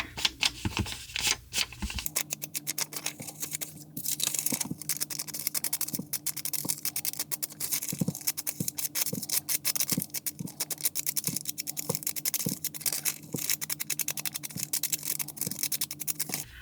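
Dry, rhythmic rubbing of a Tim Holtz vintage photo ink pad along the edges of a book page pocket and baking paper, a steady run of short scratchy strokes close up with no talking.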